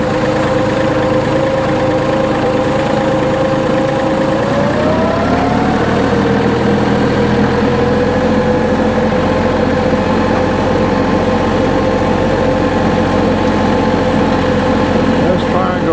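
A tractor fitted with forks idles with a loud, steady, close-up engine drone whose pitch shifts slightly as it settles, continuous for the whole stretch with no voices.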